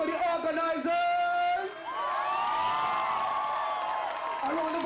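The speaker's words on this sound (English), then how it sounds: "A round of applause for the sponsors!" A concert audience at a show at Pitzer College in Claremont, California, cheers with high whoops and shouts over a brief background of clapping, moderately loud and continuous.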